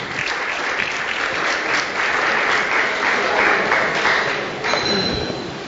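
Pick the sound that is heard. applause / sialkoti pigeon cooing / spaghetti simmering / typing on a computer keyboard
applause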